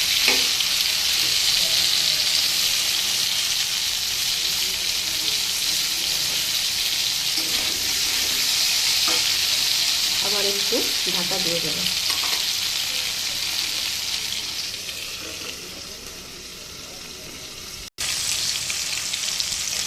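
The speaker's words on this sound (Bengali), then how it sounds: "কাঁচকলা এবং বেগুন বেশ ভালো করে নেড়ে করে কিন্তু ভেজে নিতে হবে" Pieces of raw green banana and eggplant frying in a pan give a loud, steady hiss of sizzling oil with a few stirring knocks. Someone speaks briefly over it midway, and the sizzle softens near the end before jumping back.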